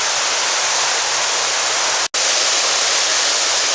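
Indian Creek Falls in the Great Smoky Mountains pours as a dense, steady roar of rushing water, loud and unbroken with no voices, cut by one momentary dropout.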